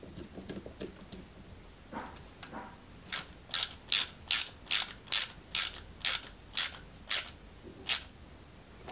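A screwdriver turns a screw into a plastic part of a 1/8-scale Toyota Supra model car, producing about a dozen evenly spaced ratcheting clicks, loud and close, after a few softer fumbling sounds.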